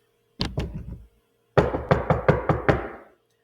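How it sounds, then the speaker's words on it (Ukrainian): Knocking on a door: a quick series of three or four raps, a pause, then a louder run of about six firm knocks, close and clear with no voices. "хто це до нас постукав і прийшов?"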